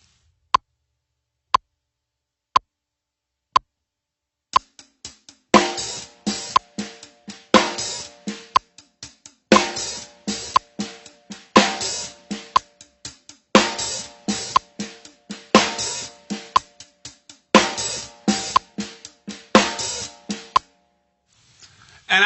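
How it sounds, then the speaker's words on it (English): A drum kit plays a steady groove at 60 beats per minute, with hi-hat strokes and quick snare ghost notes leading into accents. It opens with four sparse count-in clicks, then repeats in a dense, even pattern, close and alone. "we'll basically continue doing the hi-hat, and we're going to add in the snare"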